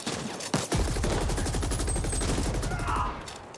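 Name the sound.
gunfire while shooting from cover in video game The Ascent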